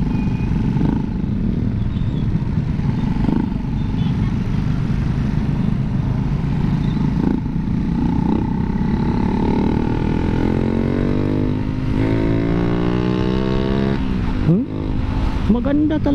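A Raider J115Fi motorcycle with a 57mm setup and a freshly changed spark plug runs steadily, then revs upward near the end, while someone talks over the engine.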